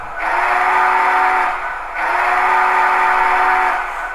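A model steam locomotive whistle blows twice, two long, steady shrill blasts with a short gap between them, loud and close.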